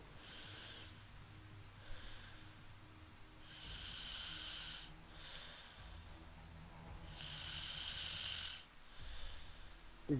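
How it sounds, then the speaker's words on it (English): A man snoring while still online during a live stream, slow rhythmic breaths with several drawn-out snorts rising and falling over ten seconds, faint and steady with no talking. "This dude's still online, but he's snoring."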